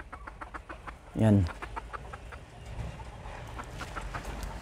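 A pair of labuyo junglefowl, a hen and a rooster, give a single brief cluck in a backyard coop, fairly close, with someone speaking over faint background clatter.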